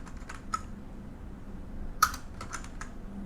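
Typing on a computer keyboard gives a few sparse key clicks, then a quick cluster of taps near the end, close and fairly quiet against a faint background hum.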